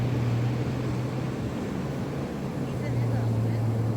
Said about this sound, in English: taking off in the Jeep